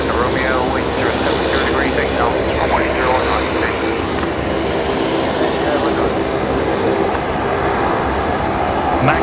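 A Boeing 737 MAX 8 departs a runway at Brisbane Airport at night, its engines producing a steady, loud, broadband roar that holds throughout, with voices chatting over it.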